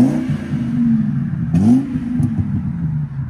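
A 2000 Ford Excursion's 5.4L V8 revs through an aftermarket exhaust, a deep, steady rumble that climbs in one sharp throttle blip midway before settling back to a loud, close idle.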